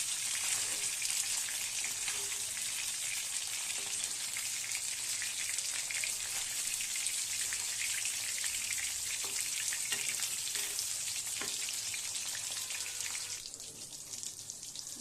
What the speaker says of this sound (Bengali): এই যে মাছ ভাজা শুরু